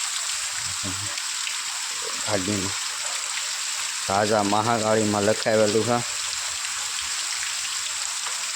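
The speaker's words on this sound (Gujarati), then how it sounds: "પાછો વરસાદ વધી ગયો પાછો વધી ગયો વરસાદ" Heavy rain falls in a steady, close hiss that blankets the whole scene while people talk over it in short bursts.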